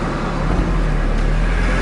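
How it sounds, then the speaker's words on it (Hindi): A manual-transmission car being driven, heard as a steady engine drone and road rumble from inside the cabin. The noise is loud and continuous, with no talk over it. "तो मैं गाड़ी चला दूँगा"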